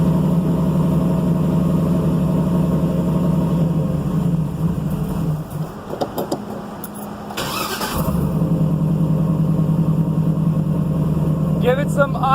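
A newly installed engine fires up for the first time and settles into a steady idle, running loud and close; midway the note dips and roughens briefly before the idle resumes, with voices talking over it.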